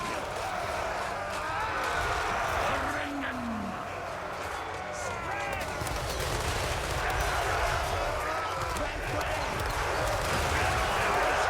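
Steady, dense gunfire from Disciples of Hashut guns in a Total War battle, a continuous rumbling barrage with crowd-like battle noise underneath and no clear individual shots standing out.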